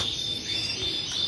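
A male Rasmi canary sings in a steady, bright, continuous stream of high trills and chirps, close and fairly loud, with no talk over it.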